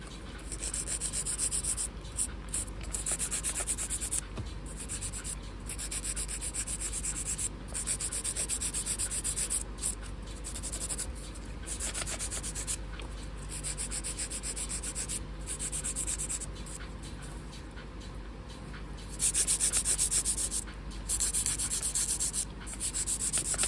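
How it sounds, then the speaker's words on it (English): A 100 grit hand file rasps across fingernails in steady, close, continuous strokes, a dry scratchy rubbing with brief pauses between passes and no talking. "So I'm filing them like this."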